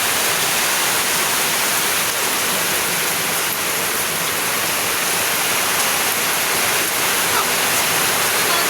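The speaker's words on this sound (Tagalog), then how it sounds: "ang lakas ng agos dito. Lakas ng agos guys. Kasi barado yung aming alulod dito." Strong water gushes steadily from a clogged house gutter in a backyard, a loud, unbroken rushing wash close by that never lets up.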